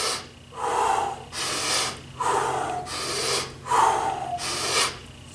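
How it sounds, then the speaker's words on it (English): Heavy rhythmic breathing during half moon push-ups: three cycles of forceful, close breaths, each a loud exhale followed by an audible inhale, with no talk. "Breathing again, you'll notice."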